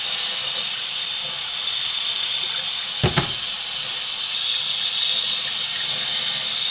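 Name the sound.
hot water running from a tap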